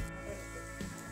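A wheat roti fries in oil drizzled around it on a pan, giving a soft, steady sizzle with a slight hum beneath and no voices.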